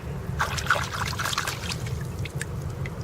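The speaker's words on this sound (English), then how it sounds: "let's wash this off." Mud is rinsed off a knapped stone fossil in water at Tin Can Beach, Saint John, New Brunswick. Soft trickling and splashing run for a few seconds, fairly close and quiet.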